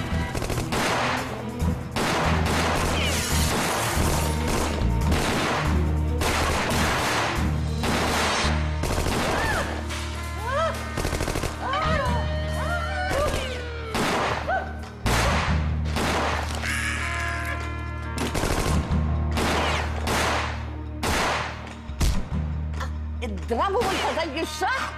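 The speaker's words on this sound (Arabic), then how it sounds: "في تبادل اطلاق نار جوه يا فندم." Staged gunfire in a comedy play, a loud, dense burst of rapid shots and clattering bangs that runs nonstop over a noisy backdrop, with faint voices underneath.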